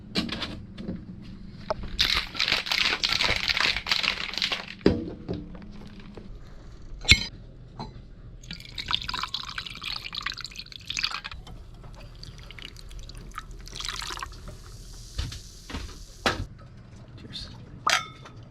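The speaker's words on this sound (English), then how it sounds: "Then we're going to top it off" Key lime sparkling water pours into a glass with a steady hiss in two spells, broken by sharp clinks of glass and a few faint drips.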